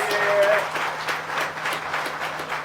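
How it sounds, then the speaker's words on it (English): Applause rises from the audience at a grand opening ceremony, a moderate clatter of many hands that swells early and then stays steady, with a voice speaking over it. "Give them a big round of applause."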